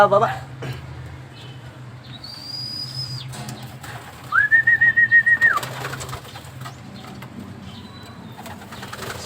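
Racing pigeons at a derby in Calabanga, Camarines Sur make soft, low cooing, with a whistle and a brief burst of wing flapping partway through, while someone speaks over the scene.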